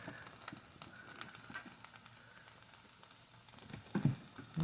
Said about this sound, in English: And these are frying up nicely.